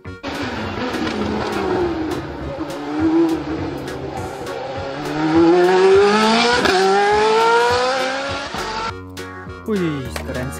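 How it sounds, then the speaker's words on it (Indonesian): A racing engine sound effect from a toy F1 race car, with a high whine that climbs in pitch and loudness over several seconds, then cuts off abruptly and is followed by a short electronic tune. "mobil balap F1"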